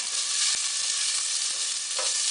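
Onions dropped into hot oil for a homemade marinara sauce set up a loud, steady sizzle, with a couple of soft stirring clicks and a brighter burst near the end.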